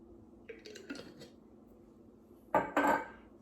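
Thick Alfredo sauce with roasted garlic tipped from a jar into a pot for spinach artichoke dip, a few soft clinks early, then louder scraping and knocking of a utensil against the pan near the end.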